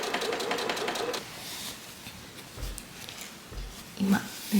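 Domestic sewing machine stitching slowly along a fabric bag seam, a close rapid needle patter for about a second, then quieter intermittent mechanical taps and thumps.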